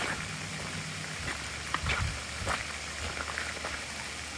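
Steady hiss of heavy rain and water pouring across a flooded road after five straight days of rain, a continuous broadband wash with occasional louder splashes, close and fairly loud.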